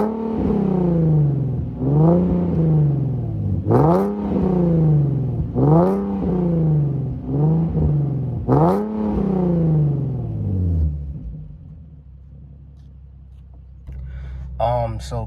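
An Infiniti G37 with a raspy exhaust revs repeatedly, each sharp climb and fall coming in a steady rhythm of about six loud, close pulls before settling to a low idle, then a short faint blip at the end.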